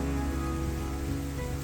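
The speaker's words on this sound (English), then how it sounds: "there is a proper storm brewing outside" A storm blows outside a guest house in Germany, with rain and wind making a steady, dense, unbroken roar throughout.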